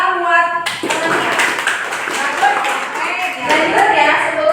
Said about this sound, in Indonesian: Coba ya, tepuk tangan buat Nia.